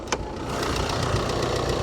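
A car engine idles steadily with a soft, even rumble and light ticking after 40,000 km without an oil change, following a brief click at the start.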